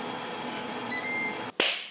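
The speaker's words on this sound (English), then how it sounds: "You heard the timer, let's go, let's check it out." A cooker timer beeps in a kitchen, a short run of bright electronic tones followed by a sharp click.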